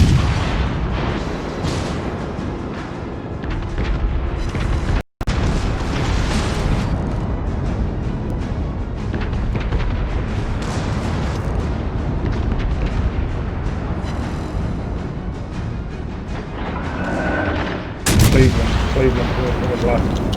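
HE shells fired from warship guns during a World of Warships Legends battle, producing a continuous loud booming rumble with one abrupt dropout and a heavy blast near the end.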